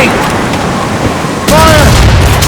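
A ship's cannons fire a broadside in Assassin's Creed Rogue: loud, rumbling booms and a dense roar of shots over the sea. Voices shout over the blasts.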